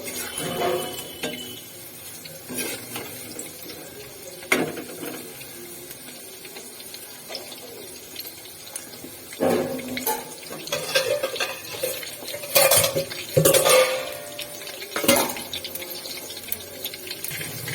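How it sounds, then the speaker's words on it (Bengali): A spoon scrapes and clinks against a metal pan of pakoras frying in oil, in irregular strokes, with soft background hiss between the louder knocks. "পকোড়াগুলোকে আমি একটু নেড়ে ছেড়ে ভালো করে ভেজে নেব।"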